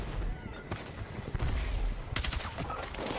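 Sharp, repeated rifle shots from an M7 XM Spear (M277) in Battlefield 6, with loud cracks and rattling bursts in the game's battle noise.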